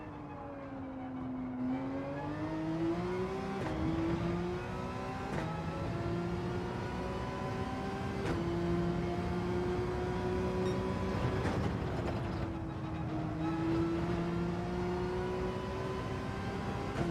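Race car engine in Gran Turismo 7, revving steadily with rising and falling pitch through gear changes, loud and continuous for the whole stretch with no talk over it.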